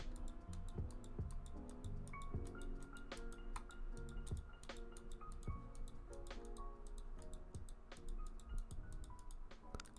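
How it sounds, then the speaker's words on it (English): Rapid, light computer mouse clicks tick in an irregular rhythm, close and crisp, repeating steadily over a faint background hum. "I will now be clicking with my mouse."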